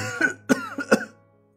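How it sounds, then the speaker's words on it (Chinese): Violent coughing from a hotel manager, three sharp harsh coughs in quick succession, close and loud, trailing into silence. "经理猛地一通咳嗽"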